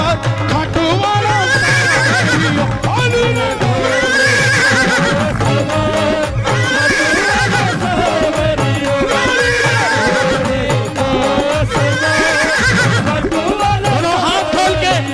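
A horse neighs and whinnies repeatedly in a loud, close sound effect, the calls rising and falling in a steady cycle over a continuous background.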